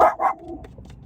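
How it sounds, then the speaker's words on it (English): Two sharp dog barks in quick succession at the start in a parking lot, then a quiet stretch with faint background noise. "I don't know what he's barking at."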